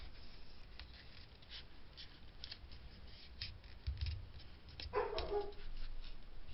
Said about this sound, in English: Wouldn't be a video of mine if I didn't have a dog barking